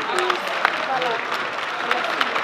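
Audience applause at a fashion show night at Casino 2000, a dense patter of clapping with a voice talking over it throughout.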